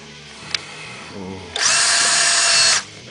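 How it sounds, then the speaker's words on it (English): Panasonic cordless drill with a very small bit boring a small hole, one loud close whirring burst of about a second after a brief click and some quiet handling. "Favorite drill in the world is the Panasonic cordless."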